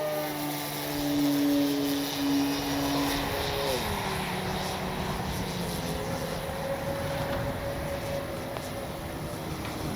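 A radio-controlled Hangar 9 Valiant model airplane's 20cc engine drones steadily at full speed into the wind, its pitch dipping partway through, with a faint voice speaking now and then underneath.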